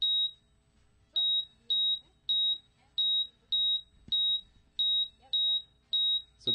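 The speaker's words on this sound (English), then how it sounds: "We don't want to miss the amazing beeps and boops from this." A laptop gives a string of short, identical high beeps at a steady rhythm, roughly one every half second to second, clear and alone with faint room noise between them.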